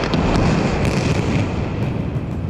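Explosive demolition of an old power station, a dense, sustained roar of blasts and rumbling debris that stays loud and broadband throughout, with several sharp cracks standing out on top.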